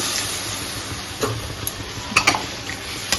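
A ground cumin paste frying in a home kitchen pan gives a steady low sizzle, with a few sharp clinks of a utensil against the pan near the end.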